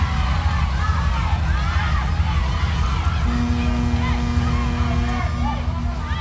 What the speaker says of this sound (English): Crowd cheering on every point played.